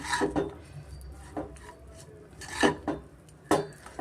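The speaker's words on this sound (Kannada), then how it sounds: "ಇದೆಲ್ಲ ಚೆನ್ನಾಗಿ ಮಿಕ್ಸ್ ಮಾಡೋಣ" A spoon scrapes and clinks against a metal pot while mango chitranna rice is mixed with grated coconut. The scrapes are irregular and close, with sharp metallic knocks between softer stirring.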